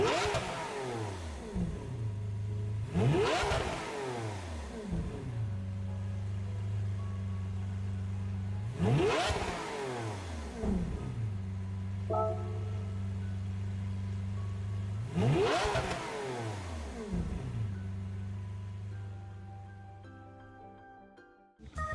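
A 2015 Lamborghini Aventador LP754 SP engine in Gran Turismo 7 revs in three long, loud sweeps. Each climbs steeply in pitch, then drops back to a low, steady idle hum.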